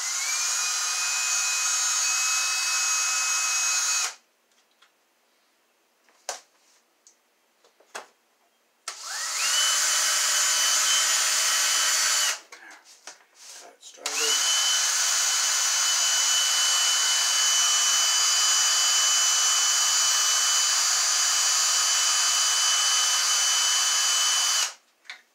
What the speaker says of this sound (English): So I'm going to just drill a little hole through here so my hole's not too big.